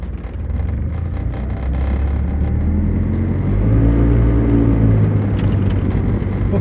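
A car eases off after being shifted into drive, its engine rumbling steadily and swelling gently as it pulls away, heard from inside the cabin with no talking.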